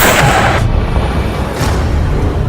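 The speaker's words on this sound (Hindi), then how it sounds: "पिस्टल, रिवॉल्वर, बंदूक या फिर राइफल से दनादन फायरिंग" Celebratory gunfire from pistols, revolvers and rifles at a festive gathering: a loud, close, rapid burst of overlapping reports that fades slightly, followed by another sharp bang near the end.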